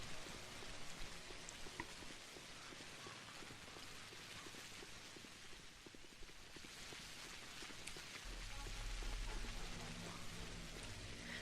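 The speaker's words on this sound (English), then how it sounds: "Looking at this very basic screen effect rain makes me really appreciate Pathologic 2's rain effects." Faint steady rain from the screen rain effect in the video game Pathologic Classic HD, a soft even hiss of falling drops throughout, with a low hum joining near the end.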